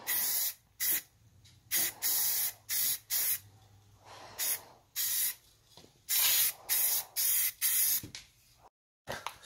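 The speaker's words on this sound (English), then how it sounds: "when I airbrushed, you always wanted to go spray before and then spray after" Short bursts of an airbrush spraying paint onto an old gas pump, a dozen or so hissing passes separated by brief pauses, close and steady.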